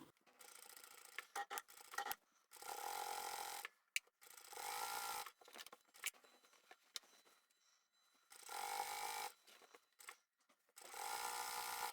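A sewing machine stitches the facing onto a quilt in several short bursts separated by pauses, a close, fairly quiet mechanical whir that starts and stops repeatedly.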